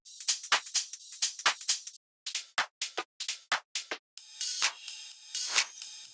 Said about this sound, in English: To give the drop more groove, we will layer in some top loops